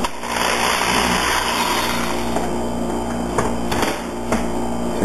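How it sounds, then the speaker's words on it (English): Power drill boring a hole into the wooden fuselage of a model airplane during a throttle servo and switch install, a steady close whine running throughout with a few brief sharper clicks and bumps, no voices. "go ahead and drill a hole"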